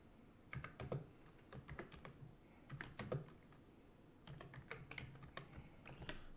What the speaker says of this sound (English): I can't type. I don't like this keyboard anymore.